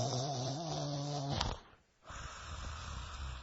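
A voice imitates a man snoring in the night, making a rough, droning, nasal snore that rises and cuts off abruptly, followed by a quiet breathy pause and low rumble.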